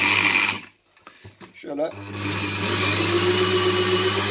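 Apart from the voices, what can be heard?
12/24 V wind and water turbine alternator being turned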